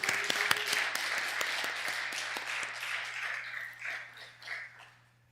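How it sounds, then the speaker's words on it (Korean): A congregation at a Korean church in Busan claps in praise at the launch ceremony of a pastors' choir, a sustained round of applause over a low hum that fades out toward the end. "하나님께 영광의 박수를 돌리겠습니다"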